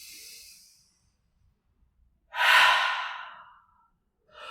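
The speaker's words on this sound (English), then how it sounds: "you might find a slow, steady inhale and a slow, steady exhale" Slow, steady breathing during a yoga practice: a faint exhale fades out, a pause follows, then one long, close, airy breath rises and trails off slowly, and another breath begins at the end.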